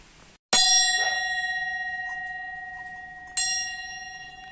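A metal bell is struck twice, each time with a bright, sharp ring that fades into a long, shimmering decay. The sound is close and clear, and a third strike begins at the very end.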